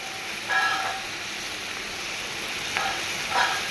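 Banana flower frying in a pan as turmeric is added, a steady soft sizzle and hiss throughout with a few brief louder stirring clinks, close and alone with no talking.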